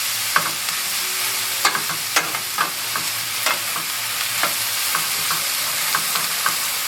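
Kang kung stems sizzling steadily in hot oil in a pan, with a dense continuous frying hiss broken by repeated sharp scraping and stirring clicks at an uneven rhythm, close and fairly loud.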